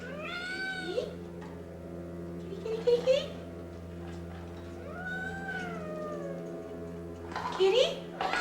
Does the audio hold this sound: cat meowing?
yes